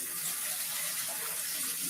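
Tap water runs steadily into a kitchen sink, a continuous close hiss and splash of flow with no talking over it.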